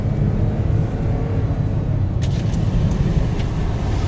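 A car approaching on the road makes a steady, loud low rumble of engine and tyre noise, close by and without voices.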